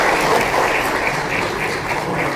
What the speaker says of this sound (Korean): 이번 축하의 박수를 부탁드리겠습니다.